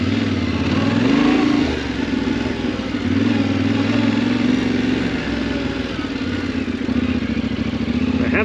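A new adventure motorcycle ridden off road on sand and dirt, engine droning and revving as the rider accelerates and eases off, with steady wind rush and rattling from the rough ground.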